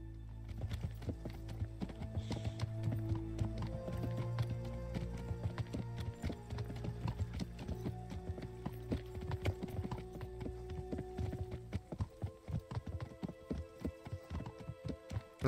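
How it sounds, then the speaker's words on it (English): Horses walking in the medieval game Kingdom Come: Deliverance, hooves clip-clopping in a steady rhythm over a low droning hum, the hoofbeats growing sharper and more distinct toward the end. "And the horses are still there."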